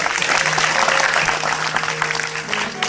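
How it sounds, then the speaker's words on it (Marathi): An audience at a devotional storytelling session claps together in a full, continuous burst of applause, even and fairly loud throughout, with a faint sustained tone humming underneath. "वाजवा टाळी"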